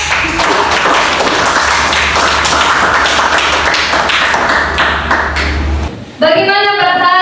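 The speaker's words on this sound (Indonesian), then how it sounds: "Oke, tepuk tangan untuk" Students in a classroom clap together in a loud burst lasting several seconds, which stops abruptly. A voice follows immediately after.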